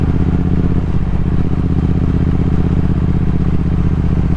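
A Triumph Speed Twin 1200 rumbles through inner-city streets with a steady, close, loud twin-cylinder throb and constant engine drone, without pauses.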